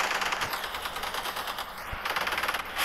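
Rapid machine-gun fire from a vehicle combat game, Crossout, as a dense, continuous rattling burst lasting the whole stretch, loud and close with no talk over it.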